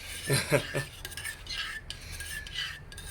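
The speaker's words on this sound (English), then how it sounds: "Give this a stir." Food stirred in a pot on a hotel-room cooking setup, with a few close, firm scrapes of a utensil at first, then softer swishing strokes against the pot under a low background hiss.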